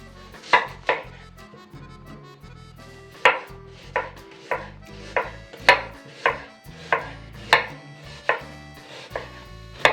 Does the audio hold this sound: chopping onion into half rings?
yes